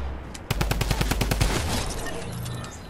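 Rapid automatic bursts from a drum gun in a video game, a close, loud string of evenly spaced shots lasting about a second before trailing off into rumbling ambience.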